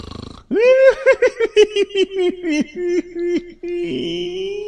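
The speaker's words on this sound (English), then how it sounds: "There must be something that will put a stop to that hideous snoring." A drawn-out, exaggerated snore rattles in a quick series of throaty pulses, then trails off into a wheezy, groaning exhale.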